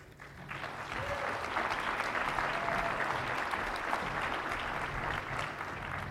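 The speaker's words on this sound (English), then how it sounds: "Please give a round of applause for this year's conference host, Dale Nakama, as she joins us on the stage." Conference audience applauding the host as she walks on stage, applause swelling quickly and holding as a loud, dense, continuous roar of clapping from a large hall crowd.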